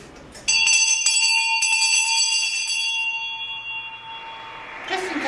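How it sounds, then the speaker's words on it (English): A genuine antique auctioneer's hand bell from the 1920s and 30s, once used at property sales, rings in a bright, sustained clang that slowly decays over several seconds, with a faint rustle at the end. "this is a genuine auctioneer's bell used in the 20s and the 30s for sale of properties"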